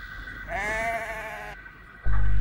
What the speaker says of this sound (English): It was the farmer driving his sheep across the line.